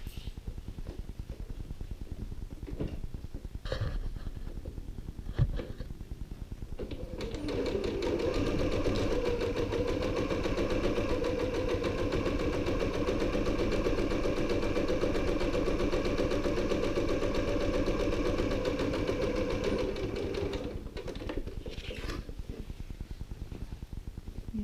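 A sewing machine stitches along the base of a tote bag's interior, starting after a few handling clicks and running as a steady, close, mid-pitched mechanical whir for about fourteen seconds before stopping.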